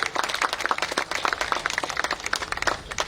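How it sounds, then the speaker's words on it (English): Audience at a civil society gathering giving a round of applause, dense continuous clapping from many hands, moderately loud and close, with no speech over it. "Round of applause, please"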